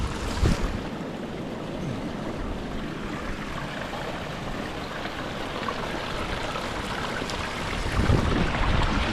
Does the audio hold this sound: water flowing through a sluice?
yes